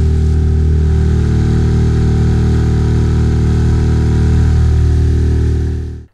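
A loud, steady boat outboard motor drones on continuously with a deep hum at sea, cutting off abruptly at the very end.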